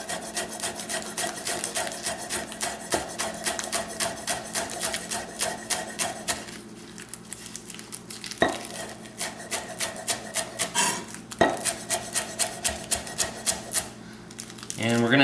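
A knife rapidly slices Swiss chard into thin chiffonade strips on a board, giving quick repeated crisp cuts in steady bursts with brief pauses, close and moderately quiet.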